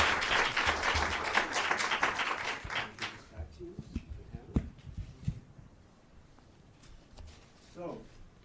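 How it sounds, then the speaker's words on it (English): An audience gives a few seconds of warm applause for guests at a public forum, a dense burst of clapping that thins into scattered claps and room noise, followed by brief talk. "I think they should get a warm round of applause for being here."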